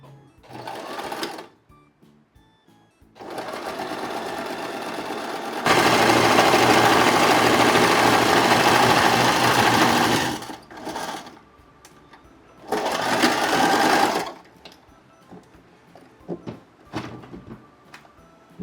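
Sewing machine joining the seam of a silk pattu pavada, running in long steady bursts of whirring stitching with brief stops between runs, close and loud.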